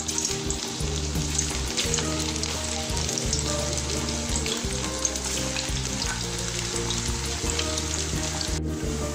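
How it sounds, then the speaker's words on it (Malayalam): Raw banana slices crackle and bubble in hot oil for Kerala-style banana chips, a dense, loud, continuous frying sizzle close by with no talking. "എണ്ണ ഇപ്പോൾ നല്ലതുപോലെ ചൂടായി വന്നിട്ടുണ്ട്. ഇനി നമുക്ക് ഇതിലേക്ക് അരിഞ്ഞു വെച്ചിരിക്കുന്ന കായ ഇട്ട് കൊടുക്കാം."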